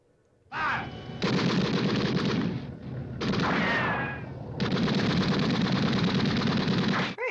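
Sustained gunfire from the 1962 James Bond film Dr. No: after a quiet start, loud continuous rattling bursts with a brief lull midway, then another long unbroken volley to the end, no talk over it.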